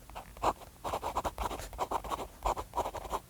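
Vintage Parker 75 fountain pen nib scratching across paper in quick, uneven strokes, a close, dry scritching that comes in short bursts with brief pauses between them.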